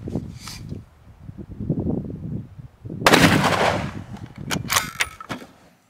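A gunshot fired at a tile strike face: one loud, sharp blast with a rolling, echoing tail outdoors, followed by a few fainter cracks and rustles, after a brief stretch of low rumbling noise.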